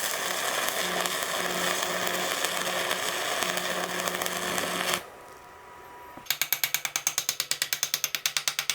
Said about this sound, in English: Let's try to place another weld.